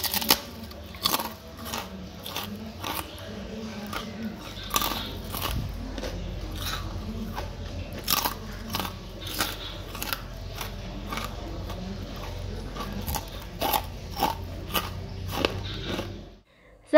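Crunchy fried tempeh chips are bitten and snapped repeatedly, about a dozen sharp, close crackling crunches spaced irregularly over a quiet background.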